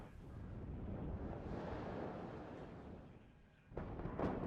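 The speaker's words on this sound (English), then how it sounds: "Some artillery's flying in from the left-hand side, as you can see" Artillery fire in the WARNO real-time strategy game: a long, low rumbling roar of distant shelling that fades, then a sharp nearer burst of blasts near the end.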